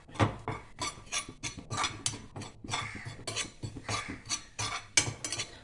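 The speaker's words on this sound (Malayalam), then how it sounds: "കുറച്ച് മുളക് പൊടിയും മല്ലിപ്പൊടിയും കൂടെ നമുക്കൊന്ന് വറുത്തെടുക്കാം." Chilli powder and coriander powder being dry-roasted in a pan for a papaya chicken curry, heard as steady scraping and clinking of a spoon against the pan in quick repeated strokes at close range, with no talking.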